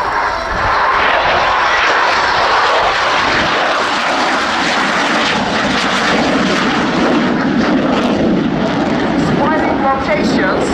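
A Turkish Air Force F-16 of the Solo Turk display team roars continuously overhead at an airshow, its jet engine a loud, steady wash of noise throughout with a crowd and commentary faintly mixed in.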